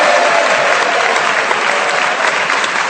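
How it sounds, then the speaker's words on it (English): A studio audience at the panel game Just a Minute breaks into loud, sustained applause for the joint winners, a thick continuous clapping roar close to the microphones. "A round of applause."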